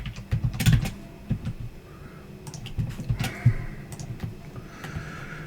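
Password being typed on a computer keyboard while configuring a database login, heard as irregular bursts of close, clicky keystrokes with short pauses between them and no talking.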